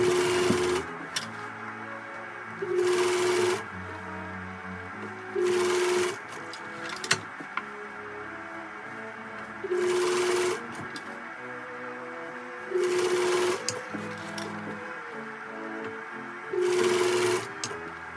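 Sewing machine stitching pleats into a pillowcase ruffle, running in six short even bursts of about a second each, separated by pauses while the fabric is repositioned.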